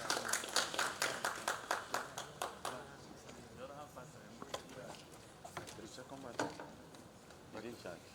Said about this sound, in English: Can we keep clapping, please?